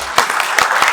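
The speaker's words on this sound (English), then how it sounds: "Another round of applause for Lucy." A brief burst of audience applause for a speaker at an IEEE conference session, a close, dense patter of many hands clapping for about a second.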